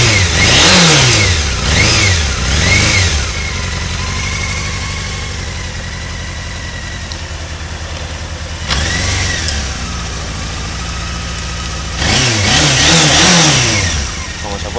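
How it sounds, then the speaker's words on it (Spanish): A car engine idles steadily and is revved several times in short bursts that rise and fall, loud and close, with someone talking over parts of it. "con su motor arrancado y como se puede ver suena perfectamente, mantiene su ralentí perfectamente"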